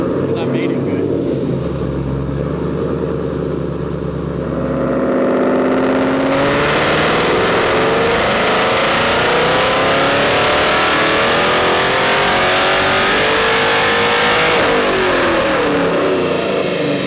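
A 2019 Corvette C7 ZR1 runs hard on a dyno, its supercharged engine droning steadily and then surging into a loud, sustained full-throttle rev whose pitch climbs and holds, loud and close throughout.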